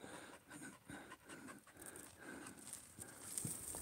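A dog pants steadily at close range, with faint rustling and footsteps around it and no talk.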